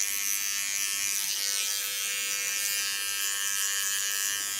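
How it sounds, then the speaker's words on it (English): Small electric hair clipper trimming the contour of a head during a shave, a steady high-pitched motor buzz held close and continuous without pauses or speech. "What you also can do with a small clipper is of course the contour."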